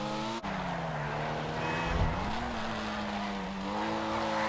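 Pfister Comet SR rear-wheel-drive sports car in a video game braking hard, engine note dropping sharply with a short tire squeal and skid before settling into a steady hum, no voices.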